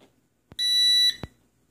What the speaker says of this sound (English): beep beep, that's fly mode